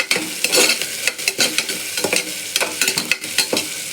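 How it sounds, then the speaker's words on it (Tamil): Vegetables lightly salted for a vegetable biryani sauté in a pan, with rapid rhythmic stirring scrapes over a steady close sizzle. "நல்லா வதங்கட்டும்."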